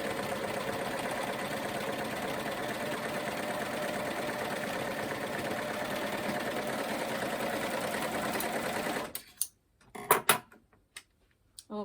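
A sewing machine stitches elastic into a maxi skirt, its motor whirring in a steady rapid buzz for several seconds before stopping, followed by a few scattered handling knocks and clicks.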